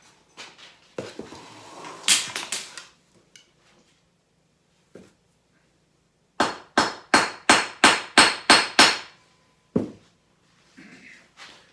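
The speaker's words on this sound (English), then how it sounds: "smash it down onto the end with a hammer" A hammer smashing down onto a pipe end resting on a concrete floor: scattered sharp metallic strikes at first, then a rapid run of about eight loud, ringing blows, followed by a couple of lighter knocks.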